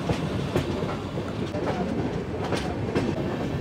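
Interior of an Indian sleeper coach on a moving train from Howrah, steady rumble with regular clickety-clack of wheels over rail joints, moderately loud and continuous.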